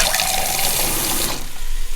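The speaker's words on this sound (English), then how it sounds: "Let's add a little bit of water to it as well." Water gushes steadily into a pot of canned crushed tomatoes for over a second, a loud close splashing pour that stops near the end, with no talking.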